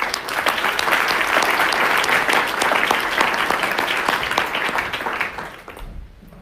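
A conference audience claps steadily to welcome a panel onto the stage for a session on charities and tax, a sustained full-room applause that fades out toward the end.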